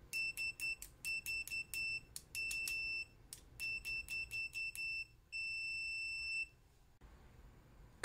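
An oscilloscope multimeter in continuity mode beeps in a series of sharp, high electronic tones, some short and clipped, others held longer, fairly quiet and with no voices.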